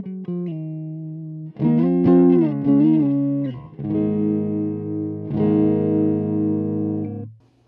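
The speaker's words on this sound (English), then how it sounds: "It's a pretty good AC30 sound." An electric guitar with a single-coil pickup plays through a Donner Cyclops amp on an AC30-style setting, loud sustained chords and a riff with slight distortion and cabinet rattle, no talking.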